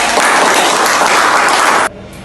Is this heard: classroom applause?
yes